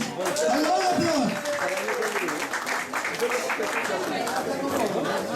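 Loud applause at a school batch reunion with teachers, a dense burst of clapping from a crowd of former students, mixed with chatter and voices talking over it.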